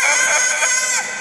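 A bird mimics a rooster's crow, a single loud, strained, harmonic call held for about a second, close and clear.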